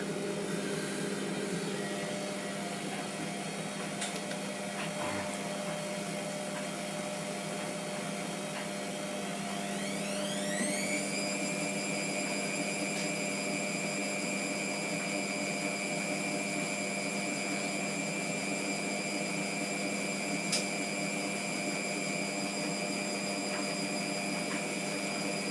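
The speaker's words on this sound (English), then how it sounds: "Come on, washer, I need you to do another spin just before my battery runs out." An old Hotpoint WMF720P washing machine during a sudsy rinse, its drum spinning up with a steady motor hum that rises into a high whine about halfway through, then holds at speed.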